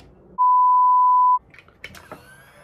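An electronic device, apparently a hair styling tool, gives one steady, loud beep lasting about a second, then quiet handling noises and faint rustling follow.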